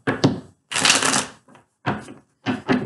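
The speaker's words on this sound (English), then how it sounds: "Shuffling tips from Molly" Tarot cards being shuffled in several bursts of crisp riffling and flapping, separated by short silences, close and fairly loud.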